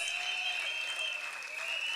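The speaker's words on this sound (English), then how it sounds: "give yourselves a round of applause" Crowd applause at a UNC political rally in Tunapuna, a dense, steady wash of clapping from thousands of people that holds constant for the whole stretch.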